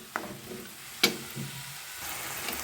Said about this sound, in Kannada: ನೋಡಿ ಇವಾಗ ಟೊಮೊಟೊ ಚೆನ್ನಾಗಿ ಫ್ರೈ ಆಗಿದೆ